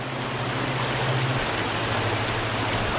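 Rushing water of a trout stream tumbling over rocks in small rapids, a steady broadband roar close by with no talk.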